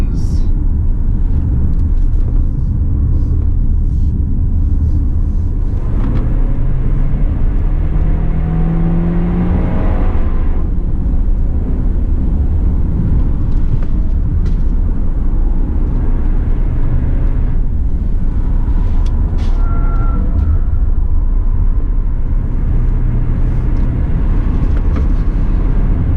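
A 2019 Proton X70 2WD engine drones inside the cabin as the car downshifts while driving, a loud steady rumble with rising and falling revs, and someone talks over it.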